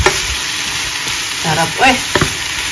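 Bitter melon (ampalaya) sautéing in a pan, a steady close sizzle throughout with a short spoken word breaking in near the end.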